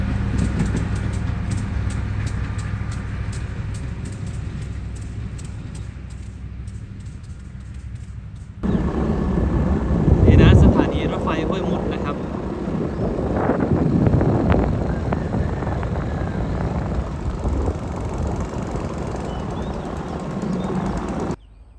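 Wind buffets the microphone, then a heavy, close rumble swells as a train rolls past near Huai Mut on Thailand's southern line, continuing loud for several seconds.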